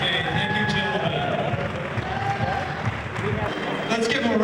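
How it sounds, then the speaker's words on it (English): Audience applause for contestants at a stage event, dense crowd clapping and some cheering running throughout, mixed with overlapping voices and chatter. "Let's give a nice round of applause"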